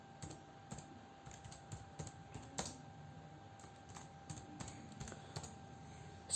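Quiet, irregular keystrokes on a computer keyboard while entering national park names into a spreadsheet, with light, close clicks in uneven bursts and no voice.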